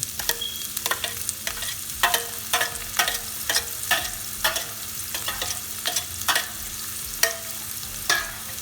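An onion fried in a pan for keema samosa filling, with a steady sizzle broken by repeated sharp scraping stirs of a utensil against the pan, close and fairly loud.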